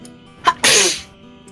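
A person gives a quick inhaled catch followed by one sharp, fairly loud sneeze indoors, with a faint low hum underneath and nothing else around it.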